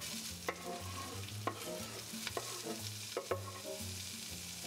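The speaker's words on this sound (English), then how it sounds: "I'm going to add a little bit more olive oil to the pan and put our veggies in." Onion and pepper frying in olive oil in a pan, a steady close sizzle with intermittent scrapes and clacks of stirring.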